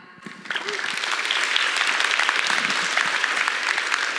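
A crowd applauds at the opening ceremony of a youth employment program, with steady, dense clapping that swells within the first second and carries on evenly and fairly loud throughout.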